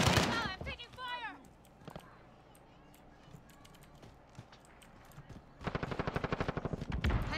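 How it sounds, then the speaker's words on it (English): Machine gun fire in the video game Modern Warfare, with rapid bursts at the start and a dense, loud volley near the end and quieter game sounds in between. "I'm taking fire."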